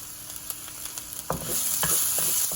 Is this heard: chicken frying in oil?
yes